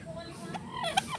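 Brief warbling bird calls rise and fall over a faint background, like a turkey gobbling at close range.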